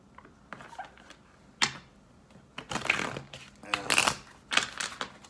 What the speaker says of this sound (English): It's like the cards don't want to shuffle.